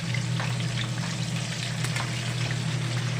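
Fish fries in a pan with a continuous crackling sizzle and a steady low hum underneath, close and even throughout, no voices.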